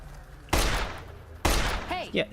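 Two loud, sharp revolver shots from the Lucky revolver in Fallout New Vegas ring out about a second apart, each decaying into a short echo, followed by a brief voice.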